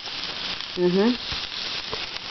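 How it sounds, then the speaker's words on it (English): Garlic-infused turkey kielbasa sizzles in a frying pan with a steady crackling hiss, close by, with a brief tonal squeak partway through. "You hear that sizzling noise? Sounds delicious, right?"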